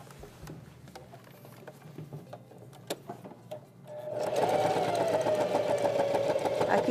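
An electric sewing machine stitches a seam on an apron pocket. Quiet handling clicks come first, then the motor starts and runs with a steady, rapid whirring rattle up close.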